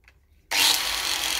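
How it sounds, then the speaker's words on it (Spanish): An angle grinder fitted with a flap sanding disc sands a chainsaw-carved wood sculpture, starting abruptly after a short quiet moment and then holding as a loud, steady, hissing abrasive whir. "al galletero se le cambia el disco de corte y se le pone el disco con unas lijas de traslape."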